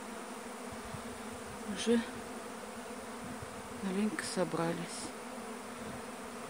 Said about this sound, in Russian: На нее пчелки насядут, и мы ее занесем в пчельник.